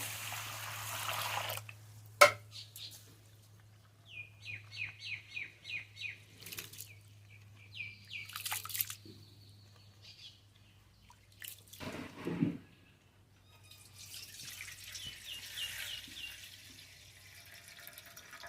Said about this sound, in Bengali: দু তিনবার জল দিয়ে দিয়ে ধুয়ে নেব।